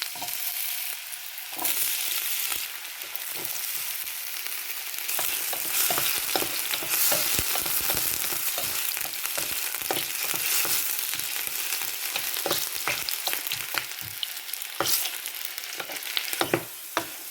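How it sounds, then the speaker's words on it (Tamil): Potatoes sizzle and crackle steadily in hot oil, with constant bubbling hiss and frequent pops and clinks of stirring throughout. "எண்ணெய் சூடாகிட்டு நான் வெட்டி வச்சுருக்கிற உருளைக்கிழங்க முதல்ல பொரிக்க போகிறேன்."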